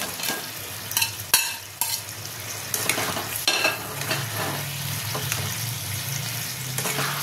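Crab added to a simmering gravy in a pan sizzles and fries steadily while a spoon stirs and scrapes through it, with a few sharp clinks against the pan and a watery bubbling underneath.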